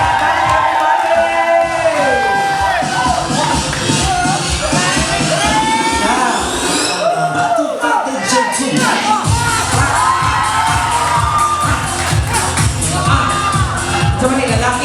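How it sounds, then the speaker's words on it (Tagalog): An audience at a Filipino event cheers, whoops and shouts while a thumping rhythmic beat plays underneath, a loud continuous crowd roar with children's shouts lasting about fifteen seconds. "Palakpak everybody!"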